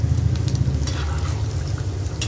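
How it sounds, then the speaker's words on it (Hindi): Cauliflower pakoras stirred steadily in hot oil over a high flame, giving a dense, continuous sizzle and bubbling with light scraping, close up and fairly loud, no voices. "दोस्तों हमने पकौड़ों को चलाते रहना है,"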